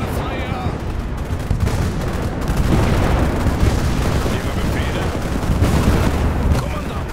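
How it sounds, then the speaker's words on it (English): Weapons fire in the war video game Global Conflagration, with heavy tank and ATGM-style shots booming over a constant dense roar of battle, loud and close throughout the clip. "I'm gonna fire!"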